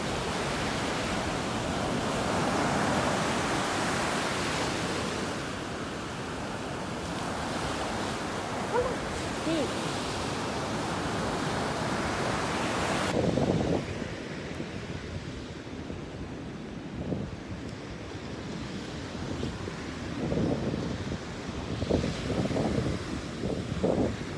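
Ocean surf on a beach at high tide, a steady broad wash of breaking waves with wind buffeting the microphone, loud and continuous, later dropping to softer rushing surges.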